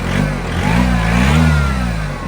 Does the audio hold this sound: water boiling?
no